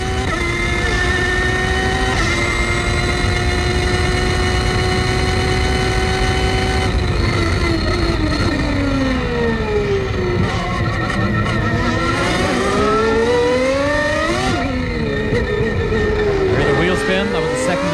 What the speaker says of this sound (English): Listen how smooth that V12 is.